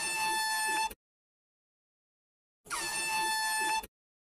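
An air horn sound effect blares twice, each loud steady blast lasting about a second and separated by a long silence, played indoors in a house.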